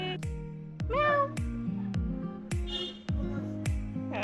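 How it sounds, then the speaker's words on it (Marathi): A white cat at Ganpatipule meows several times, short and close, over a rhythmic thumping beat that runs through the whole stretch. "इथं पण मांजर आहे."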